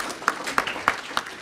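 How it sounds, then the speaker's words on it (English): Four slow, evenly spaced claps ring out in a lecture hall setting, a sparse, measured round of applause rather than a full ovation. "That deserves a round of applause."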